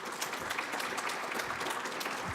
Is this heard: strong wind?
no